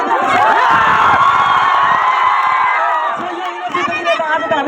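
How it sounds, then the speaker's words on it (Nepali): A large school crowd, largely children, cheers and shouts loudly and continuously, with dense overlapping voices sustained throughout and a slight dip near the end. "एकचोटि तपाईँहरूको विद्यालयको लागि ताली बजाइदिनुहोस्"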